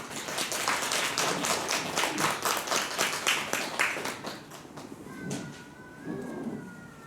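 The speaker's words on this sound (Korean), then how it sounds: "우리 성도님들 환영의 박수 한번 보내주시기 바랍니다." A church congregation applauds in welcome during a Sunday worship service, a dense run of clapping that fades after a few seconds into scattered claps and quiet room sound.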